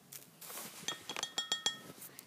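A metal spoon stirs Thai milk tea in a glass, ringing out in a quick series of bright, close clinks that grow sharper toward the end.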